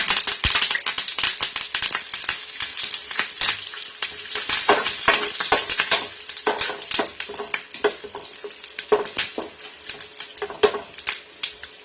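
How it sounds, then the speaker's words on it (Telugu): Tempering spices and curry leaves crackling in hot oil for a potato and tomato curry, with dense, close spitting and popping over a constant loud sizzle. "తాలింపులు కొంచెం వేగనించుకుని"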